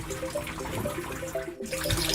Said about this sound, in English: This water is pumped up to feed the plants, and it goes down through this filter back into the biofilter.